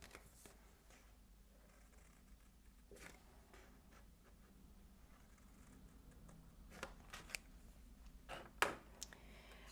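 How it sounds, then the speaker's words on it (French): Scissors cutting paper card along drawn lines for a handmade pop-up card, quiet intermittent snips and rustles close up, growing slightly louder toward the end, with no talking. "je viens découper le long des lignes"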